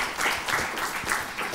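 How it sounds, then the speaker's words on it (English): An audience at a university PhD summit applauds after a talk, a dense wash of clapping lasting under two seconds with a few louder bursts. "We have cheering people behind"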